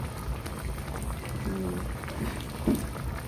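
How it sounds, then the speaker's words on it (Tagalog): Pork hock patatim simmers in a pot with vinegar, a steady soft bubbling and fizzing boil with a few louder pops, close by under faint background noise. "Ating patatim, guys. Pinakukulo ko pa."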